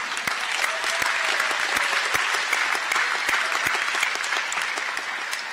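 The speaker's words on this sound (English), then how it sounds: "Another round of applause, please." Audience at a college commencement ceremony claps in a loud, dense, sustained burst of applause with sharp individual claps standing out, continuing evenly throughout.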